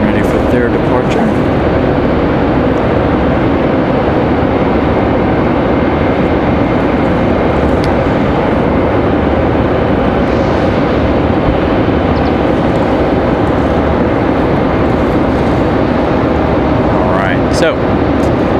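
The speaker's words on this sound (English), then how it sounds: "So, there's the American A321." An American Airlines Airbus A321 departing gives a sustained, loud jet roar that stays constant for nearly twenty seconds, with a person talking over it.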